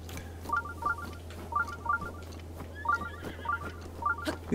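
A horse neighs and whinnies repeatedly in The Legend of Zelda: Breath of the Wild, short pitched bursts recurring in a quick irregular rhythm over a low steady background hum.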